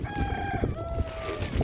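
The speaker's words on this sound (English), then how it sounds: "Got a couple of chickens already know what's going on." Several chickens gathering for scattered rice treats cluck and give drawn-out calls, close and fairly loud, with overlapping voices against a busy outdoor background.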